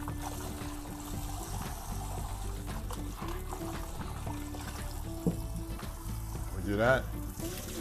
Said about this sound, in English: So what I'm doing is I'm pouring it over the meat, and I'm making sure that it gets all over.